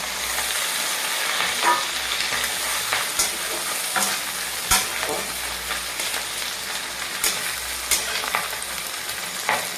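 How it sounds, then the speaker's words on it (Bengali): Chopped onions frying in fish oil in a pan, a steady sizzle running throughout with occasional stirring scrapes and clicks, close and alone with no talk. "এবার এই তেলে আমি এই পেঁয়াজ কুচিটা দিয়ে দেবো"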